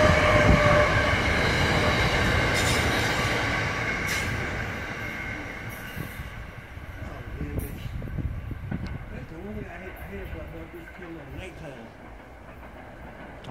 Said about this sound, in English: Westbound Paley Thorndale line.